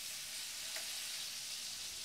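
Lamb searing in a hot pan on raised heat, a steady broadband sizzle at moderate level with one brief crackle, continuous and close, no talk.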